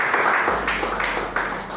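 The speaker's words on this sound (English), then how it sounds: "let's give them a huge round of applause for this wonderful initiative" Applause at a short film festival awards ceremony: a brief burst of many hands clapping in a hall, dense and moderately loud, fading slightly over under two seconds.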